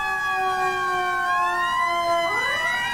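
A fire truck's blaring air horn sounds in the EmergeNYC video game, with Tower Ladder 120 working fires in Brooklyn. The horn holds loud and steady, then a siren sweeps upward in pitch over it near the end.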